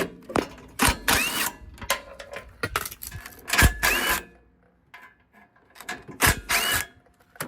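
A ratchet loosens 3/8-inch bolts on a Tecumseh small engine of a Craftsman mower, clicking in several quick bursts with short pauses and metallic handling clatter between them, close and clear with no talking.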